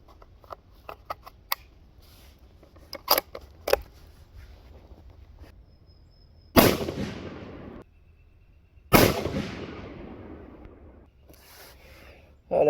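Two loud, booming rifle shots from a Ruger American Gen2 in 6.5 Creedmoor at an outdoor range, each with a long rolling echo, preceded by small clicks and handling noises.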